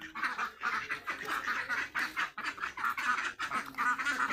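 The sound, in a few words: ducks quacking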